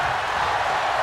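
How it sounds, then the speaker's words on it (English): A capacity crowd at a digital wrestling promotion screams in a steady, loud, wall-like roar that fills the whole second without letting up. "And this capacity crowd screaming one more time."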